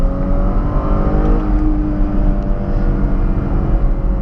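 Porsche Panamera with a 300 hp V6 accelerating hard through its gears, the engine droning steadily loud and close from inside the cabin.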